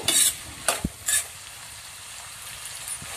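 Onions and green chillies fry in a pan for an egg and potato curry, a soft steady sizzle broken by a few sharp metal scrapes and clanks of stirring near the start, then quieter frying alone.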